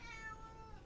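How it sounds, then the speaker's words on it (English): A pet cat gives a single short, faint meow indoors, quiet and close, with low room hum beneath and no talking. "she just came in and started meowing at me"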